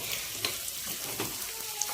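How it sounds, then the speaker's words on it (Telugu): Tempering of garlic, curry leaves, mustard seeds, onion and dried red chillies frying in oil until golden: a soft, steady crackling sizzle with a few faint pops, close and without talk. "గోల్డ్ కలర్లోకి వచ్చేంత వరకు పోపును వేయించుకోవాలి"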